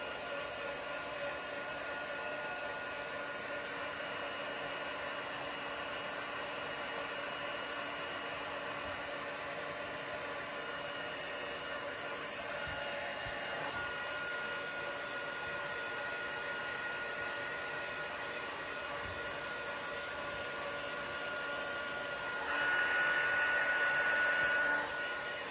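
A hair dryer blows steadily on a handmade card background, holding a constant whirring hum throughout and growing louder and nearer toward the end.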